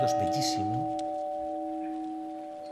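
A processional church bell from a Holy Week brotherhood procession in Zamora rings with a sustained tone that slowly fades, a faint voice briefly heard at the start.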